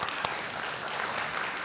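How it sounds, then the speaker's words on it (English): Conference audience giving presenters a round of applause, a soft, even wash of clapping from a roomful of people, fairly distant and steady throughout. "please give our presenters a round of applause"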